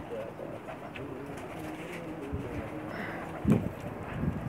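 Soft, low cooing from male Pakistani pigeons rises a couple of times near the end over a quiet background hum.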